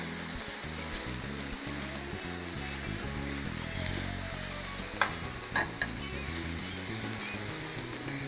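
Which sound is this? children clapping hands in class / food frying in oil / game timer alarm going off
food frying in oil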